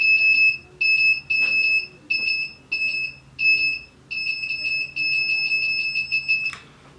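A loud, high-pitched electronic face-touch warning alarm beeps in bursts, short pulses repeating with brief gaps, then a soft rustle near the end.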